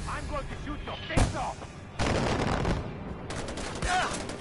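Gunfire in the video game Far Cry 4, with several loud sharp bursts of shots and blasts separated by brief pauses, heard close and punchy over faint background game sound.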